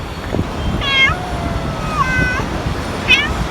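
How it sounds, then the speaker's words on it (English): Stray cats meow several times in an outdoor city spot in Manila, with three distinct harmonic calls spread across a few seconds over steady street and traffic noise. "So these cats are used to people feeding them"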